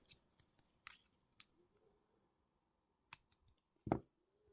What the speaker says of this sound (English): I'll clip this weaving wire at both ends and press down those little cut ends